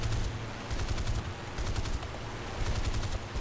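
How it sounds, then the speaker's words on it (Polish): Rapid cannon fire from a Supermarine Spitfire Mk.22 fighter in the War Thunder flight game, fast repeated bursts over a loud engine drone, steady and close throughout. "Działka troszkę niecelne."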